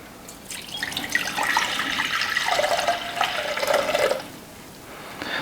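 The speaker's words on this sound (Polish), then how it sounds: "Teraz do miski wlewam 440 ml wody." Water is poured into a glass bowl for a wheat-rye sourdough bread, a steady splashing stream that swells for a few seconds, then tapers off into quiet.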